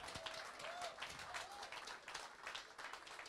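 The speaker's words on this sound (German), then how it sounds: "Das ist nochmal ein großer Applaus." Audience applause at a handball club talk event for the Hannover-Burgdorf team, a dense, continuous crowd clapping heard at moderate distance, with a few voices and whoops mixed in.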